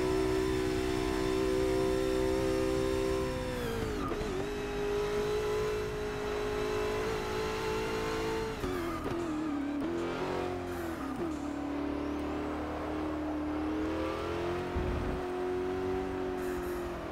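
A racing car's engine in a sim racing game played on a Thrustmaster TX wheel with shifter revs and accelerates loudly and continuously, pitch climbing and dropping through gear changes, with occasional tire squeal and no talking.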